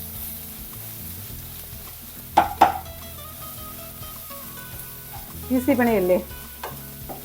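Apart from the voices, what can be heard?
stirring spinach and paneer thoran mixture in a pan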